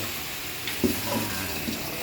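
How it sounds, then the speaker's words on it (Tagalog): Water rushes steadily through a newly fitted PVC pipe, a continuous gushing flow with a few small splashes and gurgles, close and fairly loud. "Yan ang takbo ng tubig"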